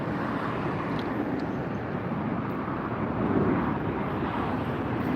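A Delta Air Lines Airbus A319-100 jet airliner at Los Angeles airport gives off a continuous, broad, rushing engine roar, close and steady, swelling slightly near the end with no voices.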